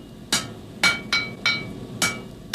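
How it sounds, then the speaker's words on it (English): A blacksmith's hammer strikes hot metal in six sharp, ringing blows at a steady working rhythm, each blow leaving a short bright metallic ring. "The ring of the blacksmith's hammer was a part of rural life for centuries."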